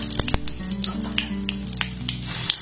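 Black cumin seeds and a green chilli fry in hot oil with a close, crackling sizzle full of quick pops, over a faint steady hum.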